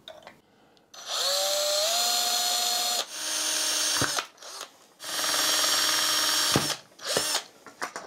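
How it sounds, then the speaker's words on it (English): Power drill boring bolt holes into a DIY Joy-con sized robot controller, loud whining bursts of a few seconds each, with rising spin-up pitch and short pauses between holes, close up with no talk. "that's gonna be easiest with the drill"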